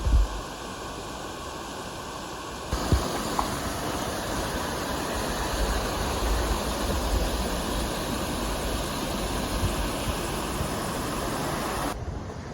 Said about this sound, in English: Here's the big waterfall.